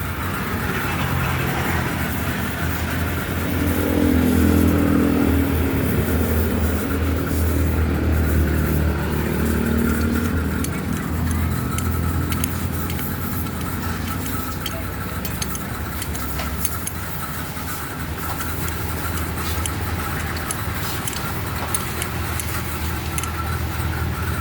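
A Kawasaki Barako 175 motorcycle engine with a sudden noisy fault idles steadily up close, a continuous mechanical rumble with a rattling, clattering top end and no talk.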